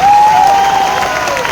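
A crowd at a large business event bursts into applause, a brief dense wash of clapping with a sustained tonal note running through it.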